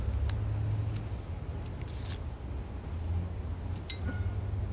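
A torpedo-shaped figurado cigar has its tip snipped with a cutter: a few sharp metallic clicks and snips stand out over a steady low background hum, with no talking.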